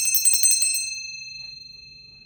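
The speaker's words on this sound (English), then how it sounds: "let's do the bell." A hand bell rung during an energy cleansing ritual at a full supermoon and lunar eclipse gathering, several quick bright metallic strikes that ring out and fade slowly into a long sustained tone.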